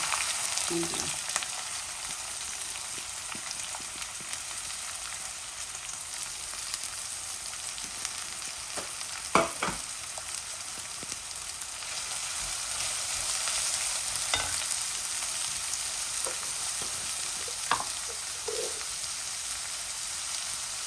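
Lamb meat and a large onion fry in a little oil, giving a steady close sizzle throughout with a few sharp clicks and clatters from stirring.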